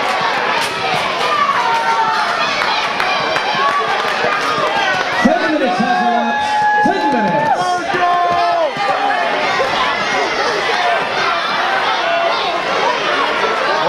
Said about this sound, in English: Crowd once again on the side of the Patriot